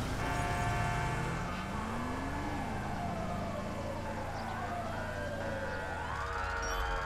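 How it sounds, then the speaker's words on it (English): Police sirens wail in a video game, several overlapping tones sweeping up and down at once, loud and steady through the whole stretch amid traffic-like noise. "I hear hella sirens around me"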